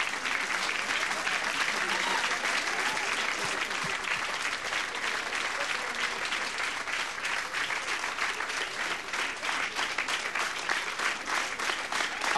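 Sustained applause from a crowd of party members at a 1994 German election event as a speaker begins his speech, loud, dense clapping continuing without break.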